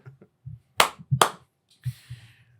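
Two sharp, loud hand claps in quick succession, marking an edit point in a quiet room, with soft low murmurs and a brief hiss around them.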